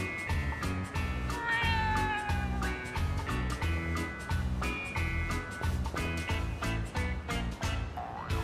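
A cat in Yakuza: Like A Dragon meowing repeatedly in a quick rhythmic series, with a pulsing musical backing underneath; close and fairly soft, no talk.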